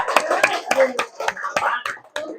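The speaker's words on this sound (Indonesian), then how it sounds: "Ya, tepuk tangan, Pak, untuk kita semua." A small group clapping together at a Red Cross first-aid training session in a hotel, about eight distinct, fairly close claps in an uneven rhythm, with a voice speaking among them.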